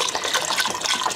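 Chicken broth being poured into a soup pot for a low-carb Zuppa Toscana, a continuous close splashing gush of liquid with no talking.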